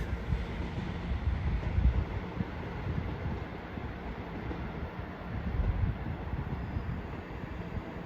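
A train at Wigan North Western station gives a steady, broad rumble that swells and fades over several seconds, with no voices over it.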